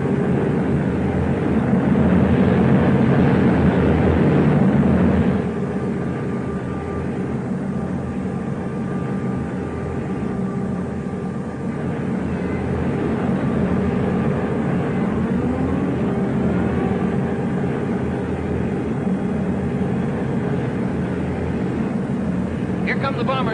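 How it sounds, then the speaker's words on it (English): Bomber aircraft flying overhead in a 1941 war film scene: a steady, continuous engine drone that fills the whole stretch, louder at first and then holding at a constant rumble, with speech likely present over it. "Here come the bombers now. You can probably hear them."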